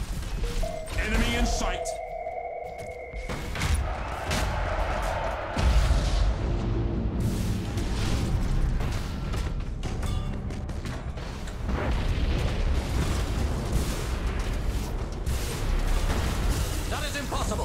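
Naval batteries open fire in the Battlefleet Gothic 2 space battle, a dense barrage of booms, crashes and bursts rolling through a busy game mix with voiced lines over it.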